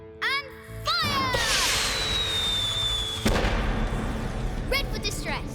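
Cartoon red distress flare fired from a rescue train, a sharp launch followed by a long descending whistle and a bright burst, with voices and music around it.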